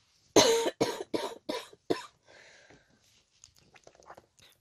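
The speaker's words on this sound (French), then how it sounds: "je suis désolée de tousser" Five loud, sharp coughs in quick succession, close up, followed by quieter rustling and small handling noises.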